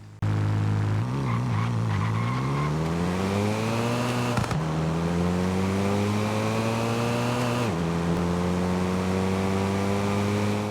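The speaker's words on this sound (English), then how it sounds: "let's go ahead and take a listen to the engine of this thing" A Hyundai i30N's loud engine in Forza Horizon 5 drones and revs in a steady tone, climbing in pitch, dropping sharply at each gear change, then climbing again.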